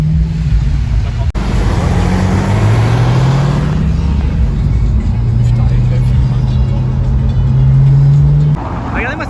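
A Bentley drives past on a Paris street, its engine note rising and sustaining loudly nearby amid traffic, with people talking over it.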